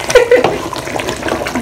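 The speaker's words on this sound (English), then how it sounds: "Let it boil. This smells amazing. Oh, see that bubbling sound?" Banga stew (ofe akwu), a thick palm-nut soup, boiling in a large pot, with soft watery bubbling and popping close by, steady and moderately loud with no talk over it.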